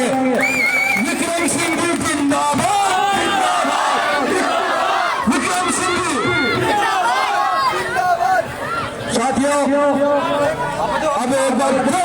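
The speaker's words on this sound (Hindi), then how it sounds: "इसलिए एक बार जोरदार जयकारा लगाएंगे।" A large crowd at an outdoor political campaign rally in a neighbourhood roars a loud, sustained chanted cheer, voices rising in repeated waves with dense shouting and babble throughout.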